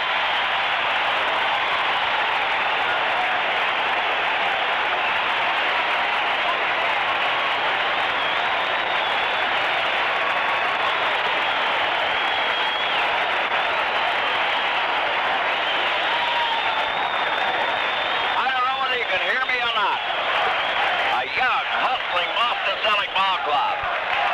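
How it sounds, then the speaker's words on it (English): A packed NBA basketball arena crowd roars and applauds during a Houston timeout in Larry Bird's first game, a loud, sustained wash of cheering with voices mixed in. "Listen to this crowd."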